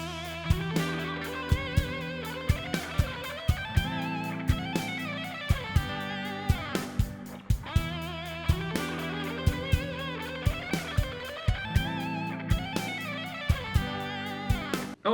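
Fast shred-style electric guitar runs played over a full rock backing track with steady drum hits, dense and continuous, with rapid melodic lines weaving through the mix and no voices.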